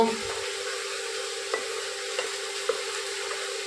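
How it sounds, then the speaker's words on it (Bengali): Mushroom masala curry with yogurt and cashews being stirred in a pan, a steady soft sizzle with a few faint spoon scrapes and clicks, close and continuous with no talking. "ভালো করে মিশিয়ে নিব।"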